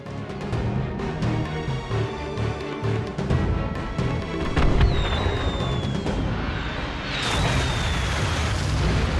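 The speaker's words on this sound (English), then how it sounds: "We've been splattered by their artillery!" Enemy artillery explodes in the video game Skylanders: Spyro's Adventure, with dull booms and bursts rumbling over a busy, loud game soundtrack, plus a couple of whistling sweeps near the end.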